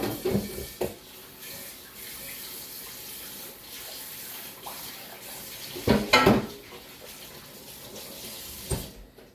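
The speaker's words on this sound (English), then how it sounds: "now let me remove the water" Water is poured off in a kitchen while pork chops are being cooked, a quiet running trickle with louder splashing bursts near the middle and the end.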